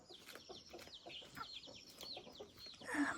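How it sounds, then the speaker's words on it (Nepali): Several farmyard chickens clucking and chattering close by at a rural home, with irregular short calls and a louder burst near the end, no speech. "कति धेरै हो कुखुरा"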